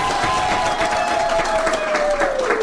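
An audience applauds steadily after a speech honouring a woman who founded a microfinance bank for women in Kenya. Dense clapping continues throughout, with a sustained whistle-like tone gliding slowly downward over it.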